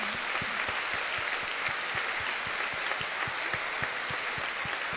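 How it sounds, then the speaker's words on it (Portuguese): A church congregation gives a round of applause to the Lord at the close of a sermon, loud continuous clapping with some rhythmic, evenly spaced claps standing out against the dense wash of hands. "Vamos dar uma salva de palmas para o Senhor"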